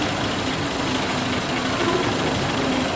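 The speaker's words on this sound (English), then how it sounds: "when you're starting it, should be able to just flick the coil on and it will start without the starter motor" A 1914 Rolls-Royce Alpine Eagle engine runs with a dense, steady roar and rumble, loud and close, holding an even level throughout with no pauses.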